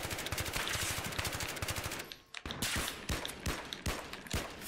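Battlefield 3 gunfire crackles in rapid automatic bursts, a dense volley, a brief pause, then spaced sharp single shots, moderately close and free of talk.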